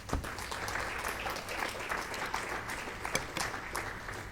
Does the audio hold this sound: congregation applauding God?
yes